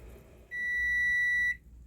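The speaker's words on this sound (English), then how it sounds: "there's the timer" A kitchen timer gives a single steady electronic beep, clear and fairly loud, lasting about a second over low background noise beside a stove where jelly is boiling.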